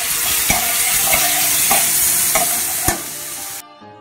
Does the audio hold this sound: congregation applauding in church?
no